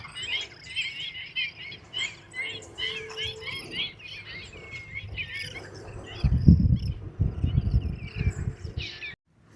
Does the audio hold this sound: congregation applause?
no